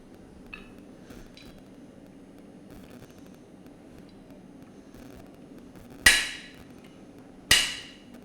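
Two sharp metallic hammer strikes ring out near the end while a metal tenon is being forged, following a low steady background hum.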